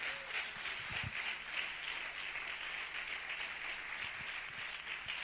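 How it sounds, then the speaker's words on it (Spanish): Steady, fairly quiet applause from a church congregation during a worship service, clapping for the Lord as a dense, even wash over about five seconds with no voices on top. "Dale un aplauso fuerte al Señor."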